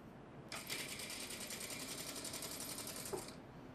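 A sewing machine runs a steady stitch along the edge of a piece of fabric, a fast even mechanical whirring-rattle that starts abruptly, holds for about three seconds close by, and then stops.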